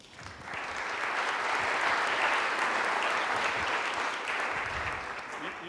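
An audience at an internet and society conference applauds as a professor is welcomed; the clapping swells quickly into a full, steady roar and begins tapering near the end.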